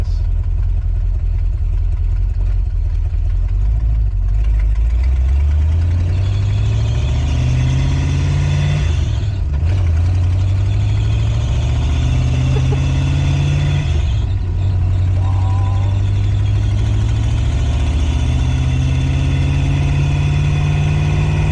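Ford Ranger with a swapped 5.0 engine idling loudly with an exhaust leak, the deep rumble rising and settling as the revs drift, with a couple of brief dips.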